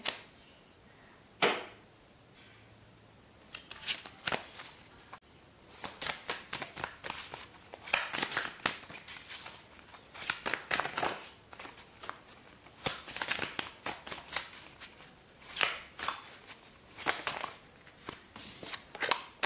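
Tarot cards handled and shuffled up close, with bursts of crisp riffling and flicking, soft slides and taps in an irregular rhythm across the whole stretch, no talking.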